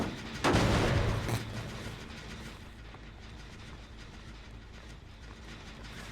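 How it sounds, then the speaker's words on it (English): A blast mine explodes in the Dead by Daylight video game: a sudden, loud, broad burst that lasts about a second, then fades into a low, rumbling game ambience. "Did they use fireworks on me?"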